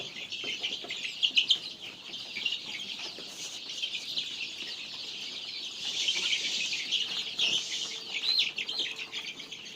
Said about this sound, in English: as you can see, these birds are really active